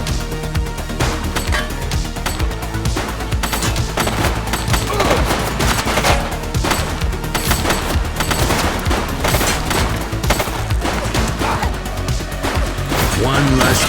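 Dense, continuous gunfire from the police video game The Precinct: rapid overlapping shots and bursts that run without a break over a loud game soundtrack, with voices calling out over the action.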